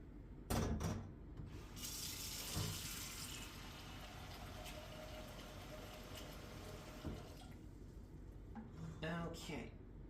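Tap water runs steadily into a measuring cup in a home kitchen while a refrigerator pickle brine is made, with dish and utensil clinks at the start and end.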